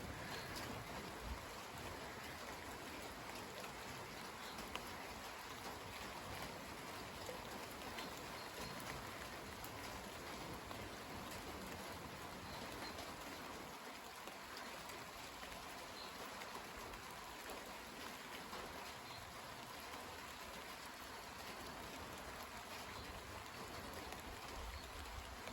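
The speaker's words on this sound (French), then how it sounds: "Donc il pleut." An April evening rain shower falling outdoors, a faint, continuous wash of patter and hiss, even and unbroken for the whole stretch, with no voices and no thunder.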